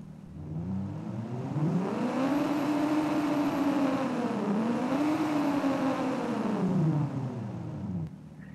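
A car engine in a top-down delivery car video game revs up and holds a smooth, steady whir, its pitch swelling, dipping briefly, then climbing again before cutting off near the end; moderately loud and heard alone.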